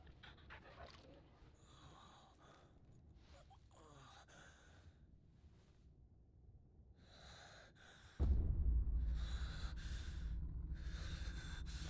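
Torgal the dog in Final Fantasy XVI: soft, rapid panting and snorting breaths, later joined by a louder swelling game soundscape with a low rumble, while a voice talks intermittently.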